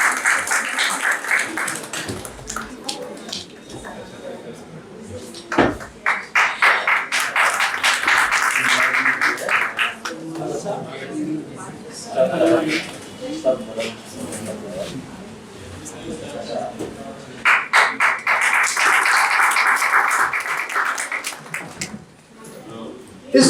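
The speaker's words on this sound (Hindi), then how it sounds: "तालियों से सभी का स्वागत करें।" Audience clapping welcomes guests at a Hindi stage event, coming in several loud bursts that fade and return, with a voice speaking over the quieter gaps between rounds.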